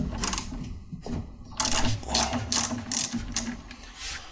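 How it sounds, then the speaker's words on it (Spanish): Ratchet wrench loosening the nut that holds a washing machine motor, a series of quick clicking bursts in irregular strokes with short pauses between them, close up and alone. "para sacar la goma primero tenemos que aflojar el motor de la lavadora con esta tuerca de aquí"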